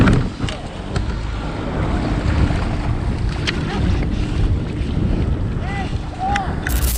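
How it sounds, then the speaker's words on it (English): A powerboat runs steadily close by on open water, its engine drone mixed with wind buffeting and water noise throughout, with a brief shout near the end. "A powerboat driving straight toward him without slowing."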